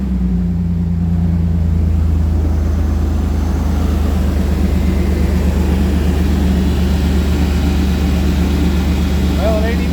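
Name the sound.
race truck engine starting and idling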